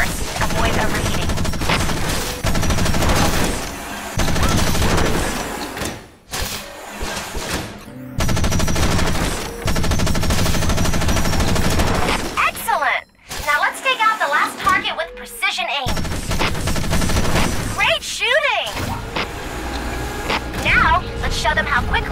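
A mech's machine gun in Front Mission Evolved fires in loud, sustained bursts that break off briefly and start again, thick and continuous, with a voice speaking over the shooting.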